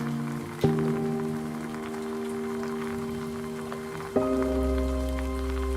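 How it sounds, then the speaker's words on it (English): Rain falls steadily on a surface throughout, a soft even patter held under a sustained tonal drone that shifts pitch twice, with no talk. "It really was raining too."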